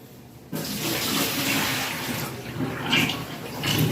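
A kitchen tap runs steadily into a sink as dishes and a bowl are scrubbed, a constant close splashing hiss starting abruptly and swelling with brief clatters toward the end.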